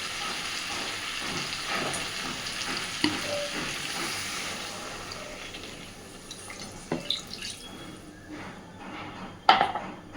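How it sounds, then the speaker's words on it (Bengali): Water goes into a pan of sizzling chicken curry with potatoes, a loud steady fry and hiss with scattered drips and a few sharp clinks of the pan or spoon. "এবার আমি অল্প একটু জল দিচ্ছি।"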